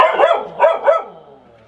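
A dog barks three times in quick succession, close and loud, then the sound trails off into quiet; no talking.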